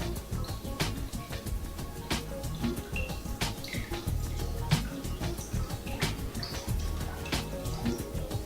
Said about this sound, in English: we just want to start letting that drip off into this container